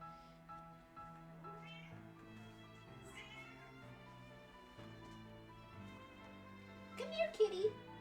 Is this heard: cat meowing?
yes